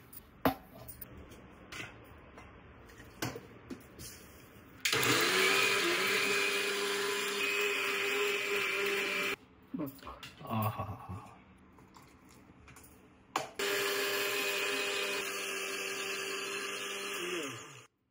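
A mixer grinder whirs loudly as it grinds a Malvani masala of pepper, coriander, ginger, onion, tirphal and turmeric with coconut. It runs in several long bursts separated by short pauses, with faint handling noises in the gaps.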